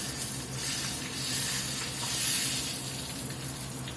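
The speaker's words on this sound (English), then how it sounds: "We're going to pour all this grease out of him." Hot pork chop grease pours out of a frying pan, giving a steady sizzling, hissing wash that swells and fades gently over a few seconds, close and continuous with no talk.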